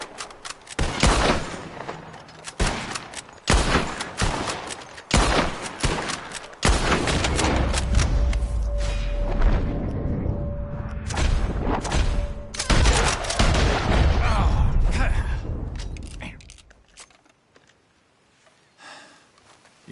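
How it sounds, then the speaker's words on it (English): Gunfire in Red Dead Redemption 2: a run of loud, closely spaced shots at first, then a dense sustained volley of overlapping shots and rumble that gradually thins and fades out. "As soon as you see them, start shooting"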